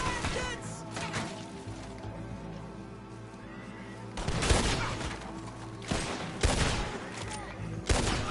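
Bursts of gunfire in the Red Dead Redemption 2 video game, several sharp loud volleys in the second half, with horses whinnying and game dialogue earlier.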